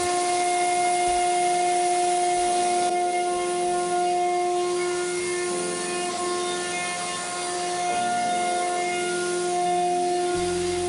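A CNC machine cuts wooden parts for a kinetic sculpture, giving a loud, steady, tonal whine with a low hum that runs unbroken from start to finish, with slight shifts in pitch.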